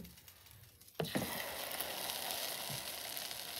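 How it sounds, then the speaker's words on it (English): A hot sublimated mug just pulled from the oven hisses in a cup of water, starting with a sudden splash and clunk, then a steady, close, bubbling sizzle that continues without talk. "I don't know if you can hear it sizzle, but it's sizzling."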